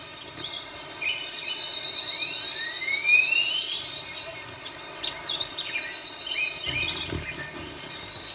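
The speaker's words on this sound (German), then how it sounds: "Der lichte Waldrand ist ein Insektenparadies. Das zieht viele Vögel an." Many birds chirp and trill at the edge of an open cloud forest, with a long rising whistle and busy twittering calls over a steady bed of insect and cricket buzz.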